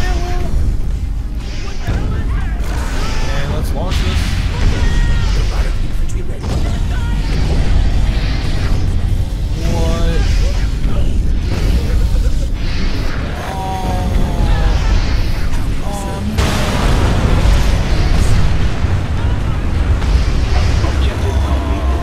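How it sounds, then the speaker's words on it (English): Repeated heavy gravity bomb explosions in the strategy video game Universe at War, loud rumbling booms and crashing bursts layered densely over one another throughout, with battle noise and a speaking voice mixed in. "Gravity bomb ready."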